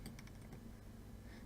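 Keyboard keys hit hard while playing RuneScape PvP, a short cluster of close, sharp clicks at the start that thins out to faint keystrokes over low background hum.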